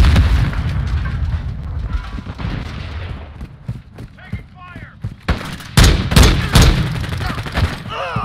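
A Semtex grenade blast and gunfire in Call of Duty Modern Warfare 2, with a dense rumbling barrage that builds into several loud, sharp explosive cracks near the end, under game voices.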